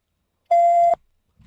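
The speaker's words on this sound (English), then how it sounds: "there goes the smoke detector" A smoke detector lets out one loud, steady electronic beep lasting about half a second, then cuts off into near silence with only a faint low rumble afterward.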